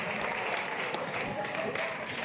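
A theatre audience at a stand-up comedy show gives dense, continuous applause, moderately loud and steady, with faint voices mixed in.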